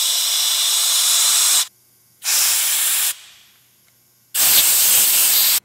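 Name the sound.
air gun blowing air through spray gun holes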